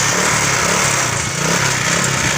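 A motorcycle engine, just fitted with a new spark plug, runs at a steady buzzing idle, close and fairly loud throughout.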